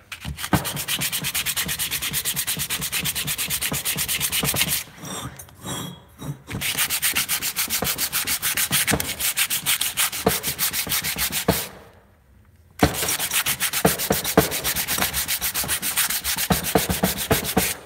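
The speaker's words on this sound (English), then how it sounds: "I shouldn't be wet sanding this." Steady scratchy rubbing of sandpaper worked back and forth by hand, wet sanding a Predator 212 engine cylinder head, continuous and close, with two brief pauses.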